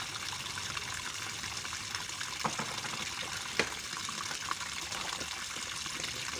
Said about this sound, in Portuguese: Tô enchendo o tanque.